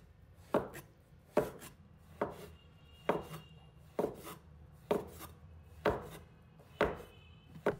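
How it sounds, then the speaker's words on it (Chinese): A knife chops a king oyster mushroom into small pieces on a board, producing eight or nine evenly spaced, close, crisp thuds at a steady, unhurried rhythm with no talking. "再准备一条杏鲍菇，把它切成小块"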